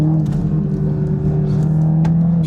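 Toyota Supra MK5 engine held at a steady, loud drone with a slight rise as it accelerates gently out of a roundabout, heard continuously from inside the car.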